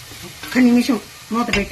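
An onion and garlic curry is stirred in a pan, giving a brief sizzle and scraping under a person talking.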